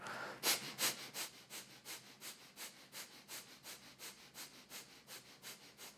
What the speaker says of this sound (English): Inhale and begin breath of fire.